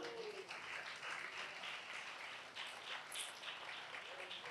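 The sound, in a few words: audience applause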